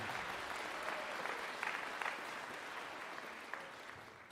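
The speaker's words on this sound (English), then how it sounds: "Let's give them all a nice round of applause as a show of appreciation." Audience at a middle and high school winter band concert gives a round of applause: steady, fairly faint clapping from a crowd in a hall, with a few sharper individual claps standing out, lasting about four seconds.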